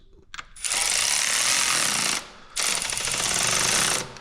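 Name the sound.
electric ratchet tightening self-locking nuts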